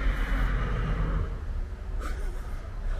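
A mounted police horse gives a short neigh amid steady outdoor background noise, a single call rising near the middle of the stretch.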